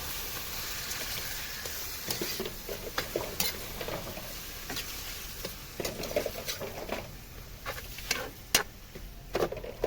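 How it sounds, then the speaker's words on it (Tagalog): Meat for adobo is stirred in a hot pan, a steady close sizzle broken by scraping and clattering stirs, heard alone without talk. "ilagay na natin yung karne. Ayan. And then haluin muna natin siya."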